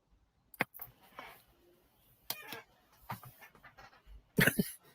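A dog pants and sniffs close by in short, uneven bursts, with quiet gaps between them and a louder huff near the end.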